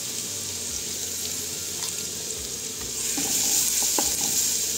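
Food being seasoned in a hot pan on a home stove, giving a steady, continuous sizzle with faint scraping and stirring clicks, growing slightly louder near the end, with no talking.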